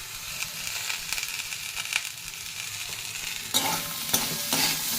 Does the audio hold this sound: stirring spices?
yes